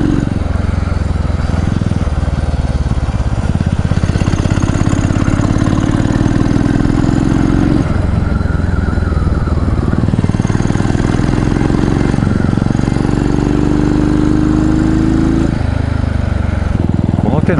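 Yamaha SR single-cylinder motorcycle engine pulling uphill on a mountain road, a steady low thumping drone with rising and falling pitch as it shifts, heard close with wind rush, and a rider talking over it.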